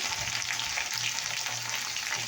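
Cut potatoes fry in oil tempered with bay leaf, making a dense, continuous close-up sizzle with low bubbling underneath and no voices.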